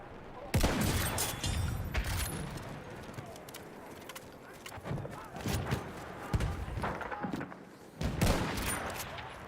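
Sniper rifle shots and battlefield gunfire in Battlefield 6, a few heavy booming bursts spread through a dense, noisy game soundscape, with speech faintly mixed in.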